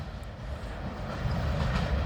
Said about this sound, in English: Train cars pull